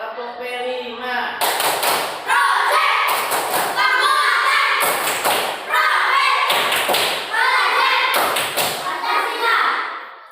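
Elementary school pupils clap in unison in a classroom, repeated loud rhythmic bursts of sharp claps separated by brief pauses, with children's voices calling between rounds.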